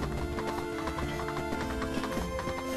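Horses in the real-time strategy game 8-Bit Armies give rapid, rhythmic hoof clip-clops with a whinny, a short and fairly faint burst alone.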